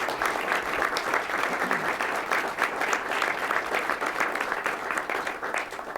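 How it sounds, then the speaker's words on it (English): A crowd applauds for new business tenants at a convention center event, a steady dense wash of clapping that holds evenly throughout, moderately distant and with no talk over it. "please welcome again a round of applause for all our tenants"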